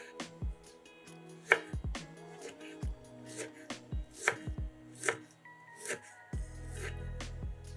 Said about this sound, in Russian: Оставшуюся нижнюю часть помидоров нарезаем кубиками.